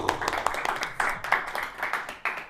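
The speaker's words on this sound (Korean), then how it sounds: "박수!" A small group of students clapping in a classroom, uneven individual claps that rise and fall in a loose, brief burst of applause.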